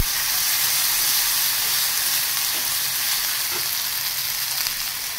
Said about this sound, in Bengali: একটু টমেটো কুচি দিয়ে নাড়ব।